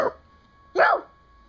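A single short, yelping bark-like sound made by a person's voice imitating a dog, close by in a quiet room.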